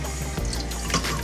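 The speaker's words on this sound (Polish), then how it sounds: "Odlewamy wodę." Water being poured off soaked potato fries during homemade fry preparation, a brief close splashing gush into a sink with dripping and trickling.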